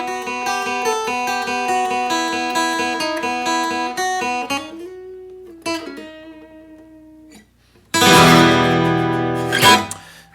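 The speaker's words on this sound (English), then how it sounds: "So I'm doing it on acoustic guitar." A riff picked on acoustic guitar, a quick run of bright plucked notes that slows and fades, then a loud strummed chord ringing out near the end, no voices.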